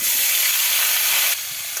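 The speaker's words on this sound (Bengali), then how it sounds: "এবার ওই তেলেই মেখে রাখা কলা আর আলুগুলো দিয়ে দেবে," Green banana and potato pieces, coated in turmeric and salt, frying in hot oil left over from frying fish, a loud, dense, close sizzle and hiss that drops slightly in level near the end.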